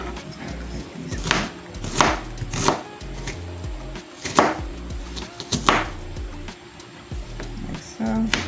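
A knife chops onion on a board with sharp, repeated strikes that come in uneven bursts, close and fairly loud, while a person talks intermittently.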